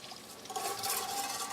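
Water is poured into a mixture of white vinegar and sugar, a soft, brief liquid trickle and splash that swells after a quiet start and runs on faintly to the end.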